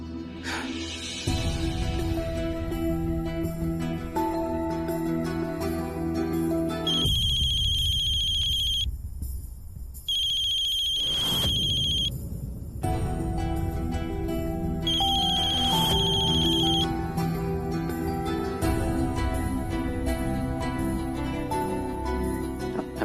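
A telephone rings repeatedly in long electronic bursts with short pauses between, loud and close, under a steady background tone.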